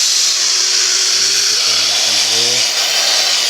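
A Festool BHC 18 cordless rotary hammer whirs at a high, steady pitch throughout, loud and close, while a voice speaks briefly underneath.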